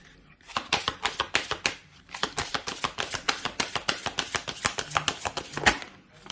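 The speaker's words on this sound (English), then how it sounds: "Let's shuffle again." A deck of tarot cards shuffled up close: rapid flurries of crisp card snaps and riffles in two quick bursts, with a brief pause between them.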